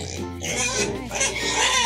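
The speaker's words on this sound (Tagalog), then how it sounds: "Pakain tayo ng baboy at anong oras na?" A pig grunts and oinks at feeding time, a short burst of loud, close snorting squeals over a steady low hum.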